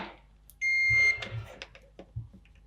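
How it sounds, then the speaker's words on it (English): Multimeter continuity tester beeping on the soldered board of a Commodore 64C; a single steady high-pitched tone lasting about half a second, followed by faint clicks and handling noises. "Okay, quick continuity check"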